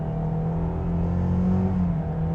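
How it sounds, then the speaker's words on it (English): A 2025 Kia Seltos S engine in sport mode hums steadily and swells as it accelerates, a continuous low drone heard from inside the cabin, with no talking. "In sport mode here, I'm just gonna hit the accelerator."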